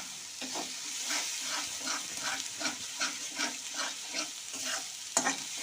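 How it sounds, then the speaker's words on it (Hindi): Spice masala being stirred and roasted in a pan for aloo matar sabzi, a steady frying sizzle with repeated scraping strokes of the spoon at a regular rhythm, close and moderately loud, no talking. "अब मसाले को भून रही हूँ।"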